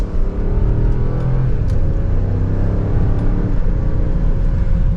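A 2024 Range Rover P530 SE pulls hard in second gear in dynamic mode, its engine note rising steadily and loud from inside the cabin, with a deep rumble and climbing whine across the whole stretch.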